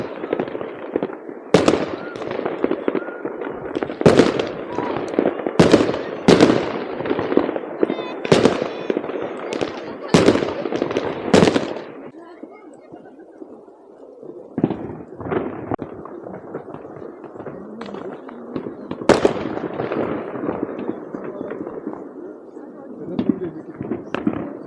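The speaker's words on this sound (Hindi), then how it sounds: "ये आप देख रहे हैं मेरे सामने अनार चल रहा है। ये नॉर्वेजियन वर्जन है अनार का," An anar-style fountain firework at a New Year celebration in Norway, a Norwegian version, gives a long hissing, crackling roar broken by a series of sharp firecracker bangs, fairly close, with people talking over it.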